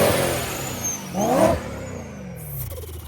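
A car engine, just fitted with a repaired blow-off valve, revs up sharply in one loud climbing burst, then settles back to a steady hum, followed by a short hiss near the end.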